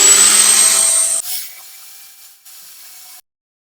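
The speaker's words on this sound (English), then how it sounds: "we've just got a bit of wire wool on the end of a drill" Drill spinning a pad of wire wool against the die-cast metal body of a Dinky Toys 256 Humber Hawk model car during restoration, a bright high whine for about a second before winding down, then quieter fading tones and silence.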